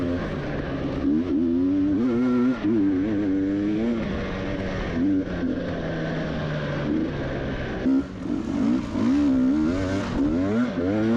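An enduro motorcycle at a Ukrainian country-cross championship climbs a muddy hill, its engine revving loud and close with rising and falling pitch as the throttle works, steady throughout with only brief dips.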